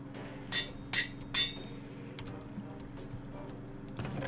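In Minecraft, three sharp metallic anvil clangs ring out in quick succession near the start, followed by quieter game ambience and a faint later click.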